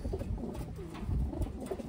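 Pigeons cooing: soft, low, throaty coos repeating steadily over a rumbling background, moderately close with no talking.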